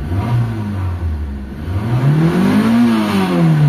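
A small carburetor engine, newly fixed so it starts on one click, revs loudly and steadily up close. The pitch sags briefly, then climbs and holds high toward the end.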